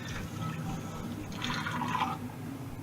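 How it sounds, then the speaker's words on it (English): Cooking utensils rinsed under running water at a kitchen sink, a soft continuous splashing and trickle with a brief louder gush partway through, fairly quiet and close. "giving these things a quick rinse"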